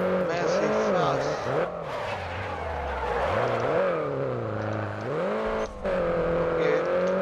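Small car accelerating in Grid Autosport, engine pitch climbing and dropping through gear changes with some tire squeal, loud and continuous, with a voice talking over it.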